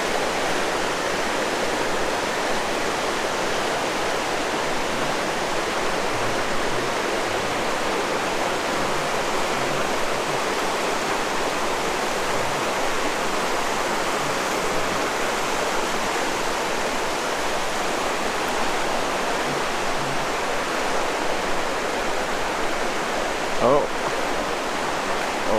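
Water pouring over a river weir in Andorra makes a loud, unbroken rush that holds steady from start to finish, heard close by.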